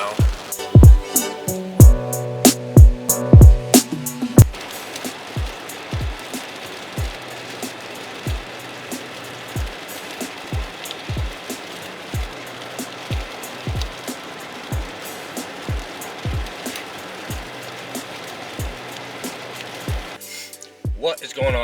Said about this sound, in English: So, why am I going fishing in the pouring rain?